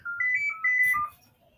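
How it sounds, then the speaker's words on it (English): A phone ringtone plays for an incoming call, a bright electronic melody of stepped tones repeating twice in quick succession, fairly loud and close, then cutting off. "someone's calling me"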